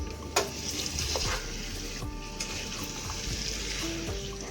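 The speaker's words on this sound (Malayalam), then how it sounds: "മസാലയൊക്കെ ആയിട്ടൊന്ന് ഇളക്കി നമുക്ക് യോജിപ്പിച്ചെടുക്കാം." Masala being stirred into kappa biriyani, a spoon scraping and turning the mixture with a soft sizzle underneath, several distinct strokes, close and free of speech.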